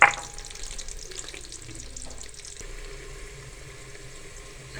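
Sliced onions fry lightly in hot oil in a pan for beef karahi with black pepper, a steady close sizzle that opens with a brief clatter and carries on evenly without talk.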